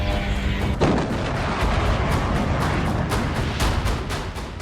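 Blast and rumbling aftermath of a Ukrainian drone strike on a large building in Saratov, Russia: a loud, dense roar with a sharp burst near the start and repeated heavy booming pulses continuing throughout, with no voices.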